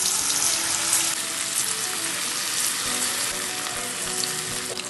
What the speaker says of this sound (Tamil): எண்ணெய் நல்லா ஹீட் ஆனதுக்கப்புறம் நாம் இந்த சிக்கனை போட்டு பொரிச்சு எடுத்துடலாம்.